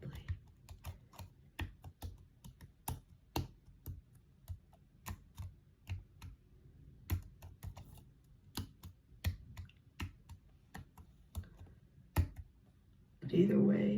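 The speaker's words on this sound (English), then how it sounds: "I am just typing gibberish" Gibberish typed on a computer keyboard, a steady stream of close, crisp key clicks in irregular bursts, then a short louder rustle at the end.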